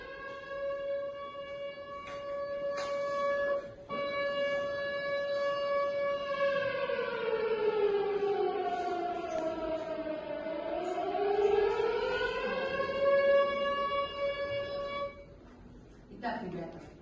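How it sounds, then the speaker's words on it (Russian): A civil defense warning siren wails with a steady tone, dips and rises again in a long slow sweep, then holds steady. The sound is loud and prolonged, with brief voices heard around it. "Ну, это сирена предупреждение."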